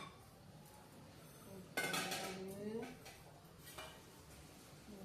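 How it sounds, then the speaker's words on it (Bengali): A metal pot clinks and scrapes on the stove while milk heats for tea, with a sharp clatter followed by softer ringing knocks and a later faint clink. "দেখো দুধ গরম করতে দিলাম।"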